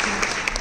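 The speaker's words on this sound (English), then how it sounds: "just give them both a round of applause" A theatre audience applauds during a drag cabaret show, a dense, steady wash of clapping that is loud and continuous for a brief moment with no pauses.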